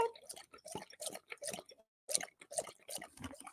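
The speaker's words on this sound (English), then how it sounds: "Do you guys want to hear a dog drinking?" A pet dog named Chaka laps up water from a bowl up close, a quick run of wet slurping and dripping splashes with a brief pause midway.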